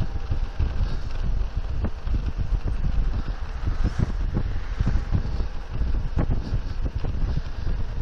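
Breezy wind buffeting a GoPro microphone outdoors on a cold Christmas Day, a loud continuous low rumble with gusty thumps throughout, close and without talk.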